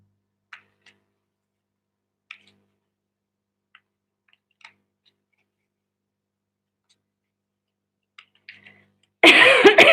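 After a long near-silence broken only by faint ticks, one person lets out a loud, close, harsh cough that lasts under a second.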